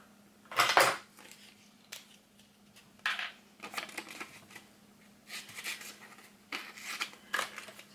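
Paper shapes being trimmed with scissors for a bright Halloween craft wreath, heard as a scattered run of crisp snips and paper rustles, fairly close and moderately loud, with no talking.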